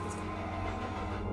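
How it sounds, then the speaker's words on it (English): A train approaching on disused tracks in a music video, a low steady rumble with a faint rhythmic rattle, soft and continuous with no break. "He can hear the train coming."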